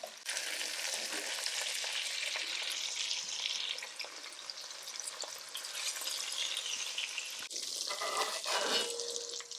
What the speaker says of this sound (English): The butter, the onions, and the meat with the seasoning in it starting to brown.